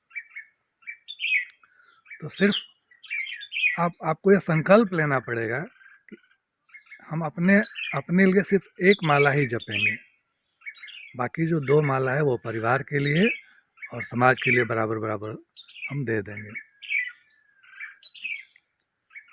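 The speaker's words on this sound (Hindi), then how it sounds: "चिड़िया कितना मधुर आवाज़ में बुलबुल बोल रही है" Bulbul birds sing sweet, high chirping calls in the background throughout, partly masked by someone speaking in Hindi in the foreground.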